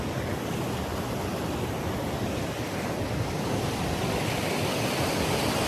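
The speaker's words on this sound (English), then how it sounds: "So we're sitting by this river." A Himalayan river rushes past in a steady, dense roar of flowing water. The sound stays loud and unbroken throughout with no voices.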